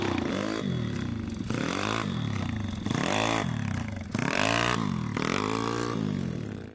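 A motorcycle engine revving during wheelie practice: loud, close revs rise and fall about six times in regular surges, with clattering mechanical noise and no talking.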